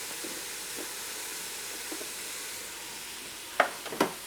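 Meat, onions, garlic and peppers sauté in a pan, a soft steady sizzle held low under light background hiss, with a couple of sharper clatters near the end.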